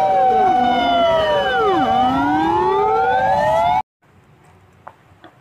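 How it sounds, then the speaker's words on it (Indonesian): A toy fire truck's loud siren wails, rising and falling in overlapping sweeping tones, then cuts off abruptly, leaving faint background noise. "ini ada mobil pemadam kebakaran"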